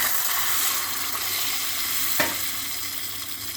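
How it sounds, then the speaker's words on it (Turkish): Garlic sautéing in olive oil in a pan, a steady, close sizzle and crackle with a single brief clink of a utensil partway through and no talk. "Bakın zeytinyağında sarımsağı kavurdum."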